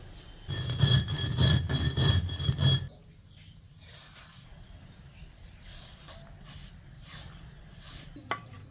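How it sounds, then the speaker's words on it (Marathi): Fenugreek seeds are crushed on a flat stone grinding slab with a loud, rough, rhythmic scraping for about two seconds, then the grinding stops and only faint occasional scrapes remain. "त्याच पाट्यावर थोडी मेथी वाटून घ्यायची थोडी थोडी करून वाटायची मेथी"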